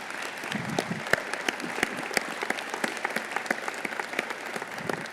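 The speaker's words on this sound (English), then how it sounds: "Jennifer and Commissioner Bob Lucy, for a round of applause." A large indoor audience at a State of the City event applauding, a dense, even patter of many hands clapping at moderate distance, sustained for several seconds.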